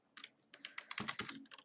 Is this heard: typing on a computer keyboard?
yes